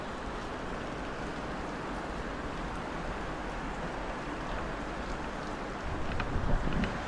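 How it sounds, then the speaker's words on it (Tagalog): Heavy rain pouring during a typhoon in Pangasinan, a dense steady hiss with wind noise, continuous and moderately loud, with rumbling gusts toward the end. "ang lakas na naman ng ulan"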